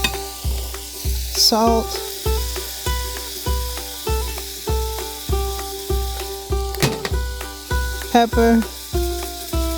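Smash burger patties sizzle on a Ninja Woodfire grill with a constant bright hiss, while a steady rhythmic backing beat and a couple of brief spoken words sit over it.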